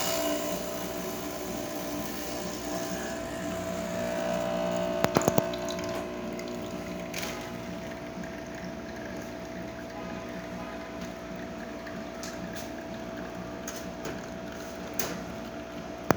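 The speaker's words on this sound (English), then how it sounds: "So let's go ahead and pull a shot." An Olympia espresso machine pulls a shot, giving a steady pump hum with a watery trickle that runs throughout and a few sharp clicks near the middle, close and alone.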